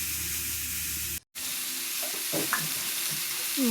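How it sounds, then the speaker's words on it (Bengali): Greens sizzle and fry with mustard paste, cumin powder and chilli powder outdoors in an open field, a loud continuous hiss briefly cut off before resuming with soft stirring scrapes and clicks. "শাকগুলো বেশিক্ষণ ভাজতে হবে না"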